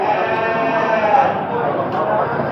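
At the Məştağa livestock market, sheep and goats let out drawn-out bleats close by, mixed with background chatter and a voice speaking.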